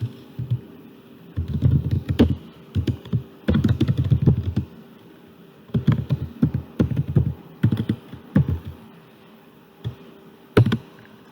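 Typing on a computer keyboard while writing a Spark SQL query, heard as irregular bursts of close key clatter with short pauses between clusters and no talking.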